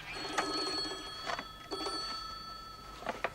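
A telephone rings in bursts, a bright trilling bell repeating about three times at regular intervals, moderately quiet against a faint room background.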